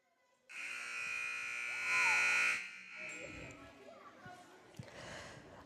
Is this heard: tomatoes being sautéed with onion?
no